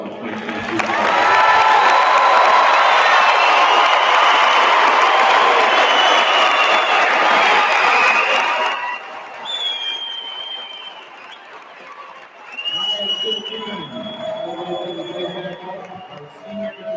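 A large crowd at a Westlake High School graduation ceremony bursts into loud applause and cheering for the class of 2022, sustained for about eight seconds before easing into scattered claps, whistles and chatter.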